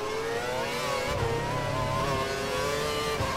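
A Formula 1 car engine in the F1 2012 racing game at Silverstone wails at a high, steady pitch that rises and dips slightly through gear changes, loud, continuous and close.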